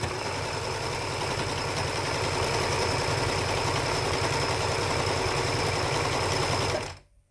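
A sewing machine runs without pause, stitching through a three-layer fabric mask with a steady, dense motor hum and needle chatter, loud and close, stopping abruptly just before the end.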